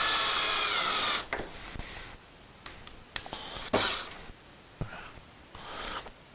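A power drill whirs in short bursts while tightening screws on an Ikea Pax wardrobe during assembly, one long run followed by several brief spins with knocks and handling sounds between them, close by and without talk.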